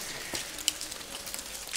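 Light rain dripping and pattering near a cave entrance, soft scattered drops with a few sharper taps over a steady faint hiss.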